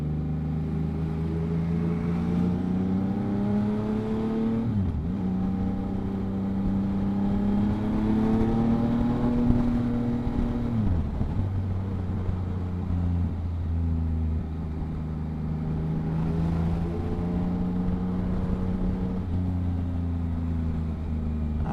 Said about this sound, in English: this is what I skip by riding a motorcycle, all of this traffic